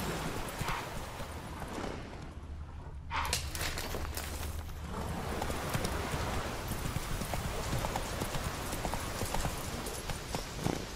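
Hoofbeats of a horse in The Witcher 3 clop steadily and close throughout, with an occasional whinny amid the game's ambient background; no speech is heard.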